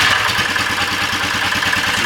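A gas golf cart engine with the choke on, running right after starting: a steady, loud, close mechanical rattle with a fast, regular chugging pulse and no voices.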